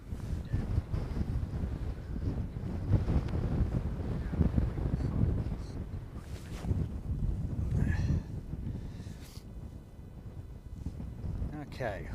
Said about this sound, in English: I'm going to move down the mound a little bit just to see if I can get out of the wind some.